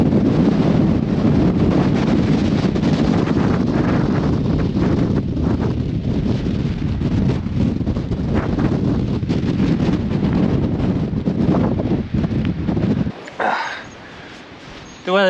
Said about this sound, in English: The weather's a little bit rough, plenty of wind